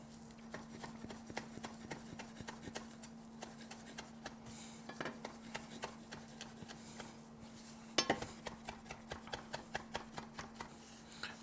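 Knife chopping fresh parsley on a board, a steady run of quick sharp taps with light clinks, close and moderately loud, no talking.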